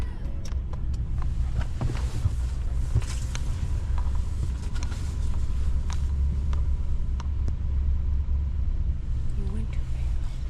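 Idling cars sit in a stalled traffic jam in Yellowstone Park, caused by a buffalo on the road. A steady low engine rumble runs throughout, with occasional faint clicks and creaks, and quiet voices are heard at times.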